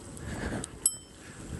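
A single quick ding from the handlebar bell of a Ninebot Max G30 electric scooter, the bell wet, sounding thin and faint against quiet outdoor background.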